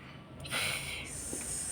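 A voice imitating a snake's hiss for the letter S makes a single soft, breathy sustained hiss that lasts about a second, close and fairly quiet.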